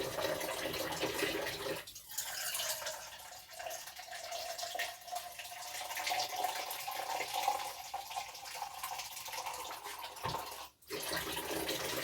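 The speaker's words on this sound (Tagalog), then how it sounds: "Lagyan natin ng tubig" Water pours steadily into a pot of chicken feet, a continuous hissing stream with faint splashes that holds nearly unchanged to the end, briefly dipping near the close.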